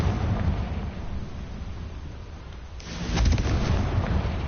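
A Confringo fire spell goes off in Hogwarts Legacy inside a tomb, a loud booming explosive burst that swells near the end over a rumbling game backdrop.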